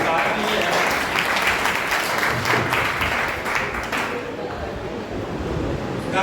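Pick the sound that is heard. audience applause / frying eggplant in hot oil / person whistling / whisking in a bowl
audience applause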